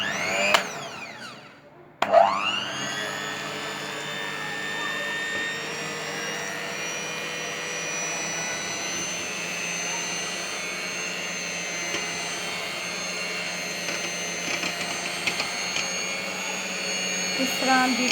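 An electric beater whipping cream with curd in a bowl to make homemade butter, a loud steady whining motor hum that switches on after a brief pause and runs continuously, with someone talking over it.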